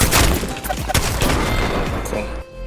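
Rapid gunfire rattles in Apex Legends as a player fights with double shotguns, loud bursts of shots close up over a dense game soundscape with some talking mixed in.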